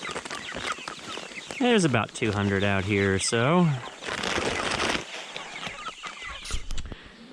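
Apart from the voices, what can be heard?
chickens clucking on a farm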